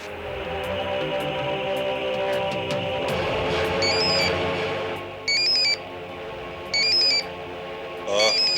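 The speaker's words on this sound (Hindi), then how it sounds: "मैं नंबर घुमाता हूँ।" A mobile phone ringtone rings after a number is dialed during a crime drama scene: repeated bright electronic ring bursts over a steady background hum and music, with a brief rising tone at the end.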